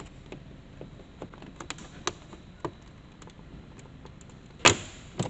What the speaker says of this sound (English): we're going to peel this little strip back